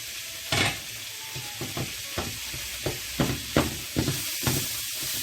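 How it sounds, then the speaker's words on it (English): Meat and vegetable filling for empanadillas being stirred in a hot pan: a soft steady sizzle under a series of scraping, clattering strokes from the spoon, roughly ten in a few seconds, close, no voices. "give it a good stir now"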